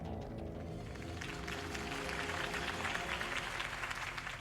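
Crowd applauding Harvey Dent's campaign speech in Batman: The Telltale Series, a dense, steady wash of clapping that holds loud and continuous over a low background rumble throughout.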